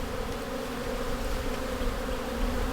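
Honey bees in an open hive make a dense, continuous buzzing hum up close, steady and unbroken, with no voices.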